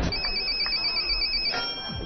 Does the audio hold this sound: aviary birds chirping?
no